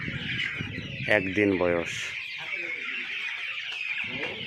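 Month-old Black Australorp and Egyptian Fayoumi chickens on a poultry farm, giving a few clear, close clucks in a short cluster while someone talks over the brooding flock.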